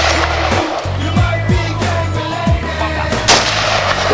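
Rapid AK rifle gunshots fired outdoors, several loud sharp reports in quick irregular succession dominating the scene.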